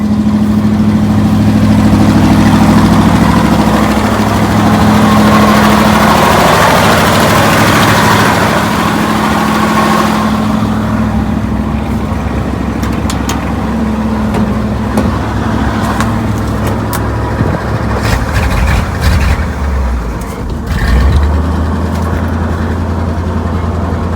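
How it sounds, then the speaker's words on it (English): The engine of a 1970 Ford F600 grain truck, running on old fuel with a leaky accelerator pump, runs steadily and loud up close with a deep, uneven idle and a few small stumbles. "that doesn't run too bad for a leaky accelerator pump and old fuel"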